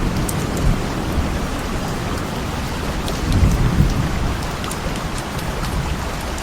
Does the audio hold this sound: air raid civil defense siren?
no